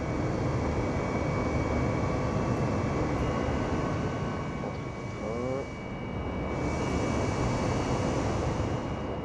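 Airplane taking off in Microsoft Flight Simulator, a loud, steady engine roar that stays close and constant as the aircraft leaves the runway, with no talk.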